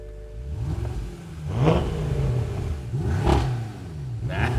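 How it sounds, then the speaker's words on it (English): A BMW M5 exhaust revving in repeated rising blips, each climbing and falling back to a burbling idle, close and loud with no talking. "Let's see what the exhaust in the M5 sounds like"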